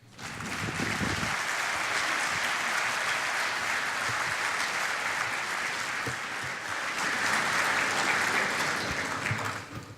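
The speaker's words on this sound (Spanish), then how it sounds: "Yo quisiera pedir y reiterar el aplauso a los 5 expositores" Audience at an agricultural conference in a hall applauds after a talk, sustained dense clapping for about ten seconds with a brief swell near the end and faint voices at the start.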